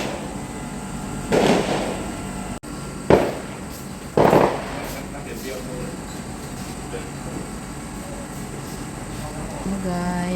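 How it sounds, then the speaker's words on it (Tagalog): Firecrackers and fireworks go off in a few sharp bursts near the start, a handful of loud cracks at irregular intervals over a steady background hum, then the air settles into ambient noise while a voice speaks faintly. "Guys, marami ng putukan dito guys."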